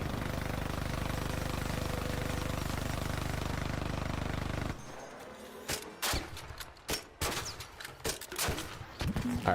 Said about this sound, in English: so they are shooting it